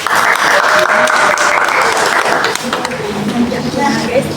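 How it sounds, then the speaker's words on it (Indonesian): A classroom group claps for several seconds in steady, dense applause that eases slightly toward the end. "Berikan aplaus kepada kita semua."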